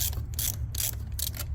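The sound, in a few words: electric ratchet used during 6.0 Powerstroke turbo install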